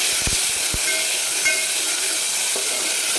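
A large chopped country tomato dropped into hot oil with golden-fried garlic, setting off a loud, steady hiss and sizzle, with a few low knocks of the pan and spoon early on.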